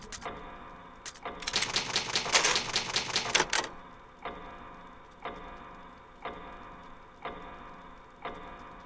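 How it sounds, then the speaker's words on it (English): A typewriter in Resident Evil HD Remaster clatters through a rapid two-second burst of keystrokes during a game save, then gives way to a slow, regular ticking about once per second. "I think I'll save this in this typewriter."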